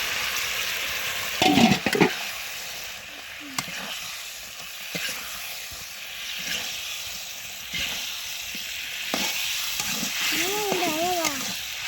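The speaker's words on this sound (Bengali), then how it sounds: "ভালো মতো ভাজে নিচ্ছে একবারে।" Food fries in oil in a home kitchen pan with a continuous loud sizzle and occasional stirring scrapes, while brief voices cut in near the start and the end.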